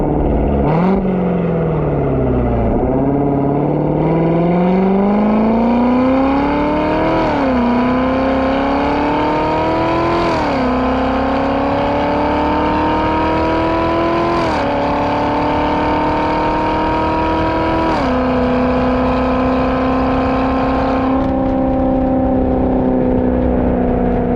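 A Corvette C7 Z06 fitted with a Corsa Extreme exhaust roars loud and close while driving. The engine note climbs repeatedly, and each climb breaks at a gear change, giving a steady, aggressive drone throughout.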